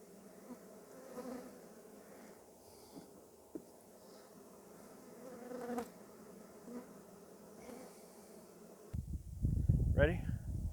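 Honey bees in an opened hive make a steady, many-voiced buzz near the listener under occasional rustling and handling. A loud, low rumbling burst of handling or wind noise comes near the end. There is also talk.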